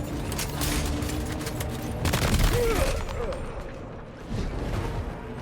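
Dense, rapid gunfire from the video game Death Stranding 2 rattles continuously in bursts, with layered shots and booms filling the whole stretch.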